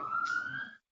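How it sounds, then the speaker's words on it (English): A siren outside wails in one steady, slightly rising tone, faint and distant, then cuts off abruptly after under a second. "I don't know if you can hear the sirens happening right now"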